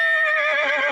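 A horse whinnies loudly and close on a battlefield reenactment ride, one sustained, wavering neigh lasting under a second, heard alone.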